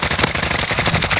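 Rapid automatic gunfire crackles through a video game battle royale match, a dense string of loud shots with no pauses.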